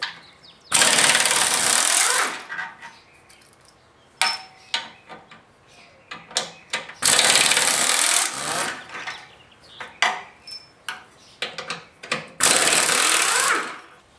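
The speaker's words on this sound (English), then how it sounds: "That's going to take a half inch socket." A half-inch socket ratchet loosens the front manifold bolts on a Sta-Rite pool heater, in three loud sustained grinding bursts separated by quieter clicks and knocks.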